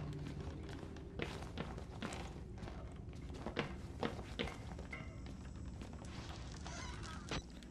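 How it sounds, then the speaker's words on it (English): Footsteps sound in the horror video game Outlast, a series of irregular taps and thuds at moderate distance mixed with dense game ambience and clatter. "Oh, I thought I heard footsteps."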